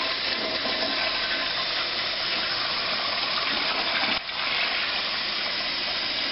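A toilet flushing after a fix to a running, leaking cistern, a loud close gush of rushing water that carries on for several seconds with a brief dip near the end, with no voices.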